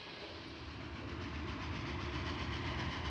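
A steam engine train moves along the railway track, producing a steady rhythmic chugging and rail clatter that grows slightly louder, with no voices present.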